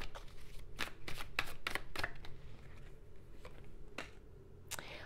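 Tarot cards are shuffled and drawn by hand in a quiet room: a burst of crisp riffling snaps, then scattered single flicks and slaps as cards are laid out, close and fairly soft.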